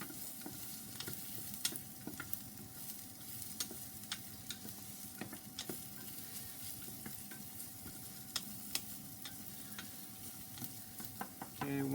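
Chili con carne ingredients sizzle in a pan while being stirred, a quiet steady frying hiss dotted with frequent light clicks and taps of the spoon against the pan, close and with no talking.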